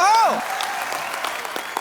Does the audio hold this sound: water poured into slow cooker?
no